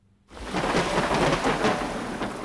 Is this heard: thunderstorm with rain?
yes